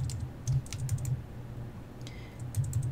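Someone types steadily on a computer keyboard, including arrow keys, while modelling a 3D-printing part in Tinkercad. Clusters of quick clicks come and go over a low hum, close up, with no talking.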